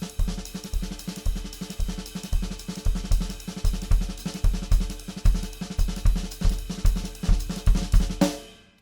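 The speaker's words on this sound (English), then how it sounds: "play the last two beats of an eighth note triplet with their left hand" A fast jazz drum groove with steady eighth-note triplet strokes, the last two played with the left hand, bright ride cymbal wash over punchy low hits, played alone before stopping abruptly near the end.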